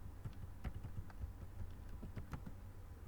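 Typing on a computer keyboard while entering a new password, a quiet, irregular run of close key clicks with a faint low hum beneath and no speech.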